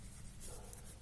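Pen or pencil scratches on paper while working out a maths proportion exercise, a brief, soft, continuous rubbing sound heard alone.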